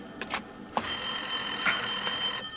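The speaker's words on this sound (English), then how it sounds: "Lorna, there's a phone." Telephone ringing in a room, with a short burst and then a longer, sustained bell tone, fairly loud and alone with no talk.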